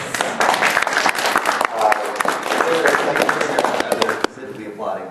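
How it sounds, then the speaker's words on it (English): Audience applause at a Magfest 2013 panel, dense and loud clapping for about four seconds before cutting off abruptly, with voices mixed in. "Specifically applauding that one"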